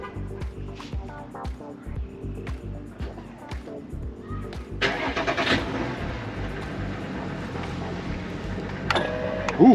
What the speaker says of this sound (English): I'm gonna remote start my truck.